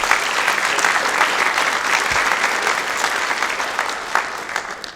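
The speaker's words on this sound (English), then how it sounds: "Students, please give your parents an applause." Students at a sophomore awards ceremony give their parents a full, dense round of applause from a large crowd, loud and continuous, easing slightly toward the end.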